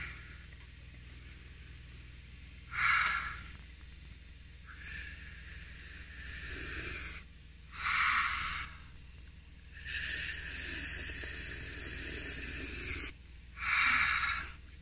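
Someone sniffs and breathes in steam rising from hot ginger, garlic and lemon tea, with three short, loud bursts of sniffing breath between longer, softer hissing exhales and inhales, close by and with no talking.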